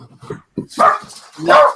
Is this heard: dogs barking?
yes